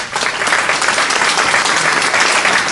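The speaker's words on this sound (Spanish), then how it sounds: "pido un voto de aplauso para él" An audience at a book presentation evening gives loud, sustained applause, a dense wash of clapping that holds steady from start to finish.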